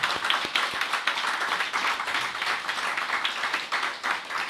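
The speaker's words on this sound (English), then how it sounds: "One more round of applause for all of the finalists and those three winners." An audience gives a round of applause for competition finalists and winners at an anniversary awards event, brisk dense clapping that holds steady throughout and tapers slightly near the end.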